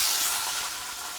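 A steady, soft hiss of vegetables frying in a kadai set on bricks over an open fire, continuous and fairly close, with no voices.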